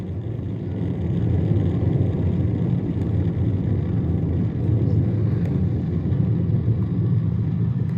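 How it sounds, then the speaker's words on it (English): The Artemis 1 rocket lifts off on four RS-25 core stage engines and two solid rocket boosters, producing a deep, unbroken rumbling roar that stays loud and steady throughout. "All 4 RS-25 engines on the core stage and 2 solid rocket boosters now propelling the vehicle at 128 miles per hour."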